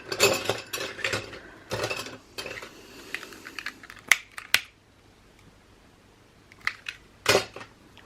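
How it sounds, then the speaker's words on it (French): Scissors snip ribbon for a quick craft album, a series of close, sharp cutting clicks and rustles in irregular bursts, with a quiet stretch in the middle before a few final snips. "je veux découper un peu plus petite mon ruban parce que j'ai fait trop"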